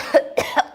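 A close, short run of three coughs spaced evenly less than a second apart, standing in for the cough of a common cold.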